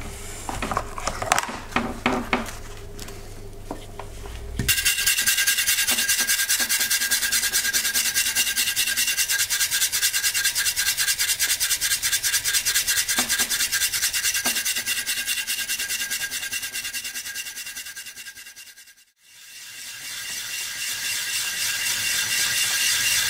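Stiff brush scrubbing rust from an antique Bombay Horse Artillery sabre blade: a continuous, close, raspy scraping that runs steadily after a few initial clanks, with a brief pause near the end.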